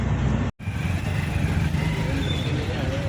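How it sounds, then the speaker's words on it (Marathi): Heavy road traffic rumbles around a moving car, a steady engine and road noise broken by one brief dropout, with voices over it. "आज खूप ट्रॅफिक लागले ना आपल्याला"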